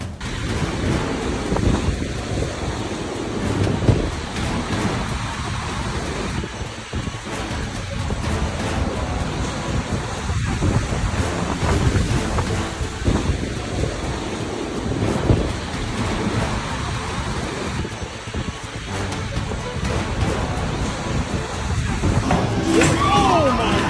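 Heavy wind roars over crashing waves in a continuous, loud storm wash, with buffeting gusts throughout.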